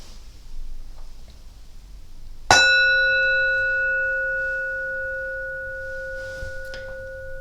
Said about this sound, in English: we will use the ringing of the bell